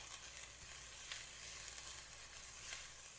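Onion and garlic frying in a pan as beef empanada filling is prepared, a steady broadband sizzle holding at an even level, with faint crackles and brief bursts of stirring breaking through.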